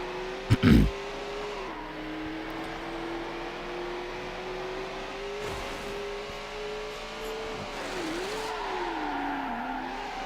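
Race car engine in the video game Need for Speed: Hot Pursuit 2, a steady sustained drone whose pitch slowly shifts and dips as the car drives a boardwalk course chased by a Chevrolet, with a brief knock near the start.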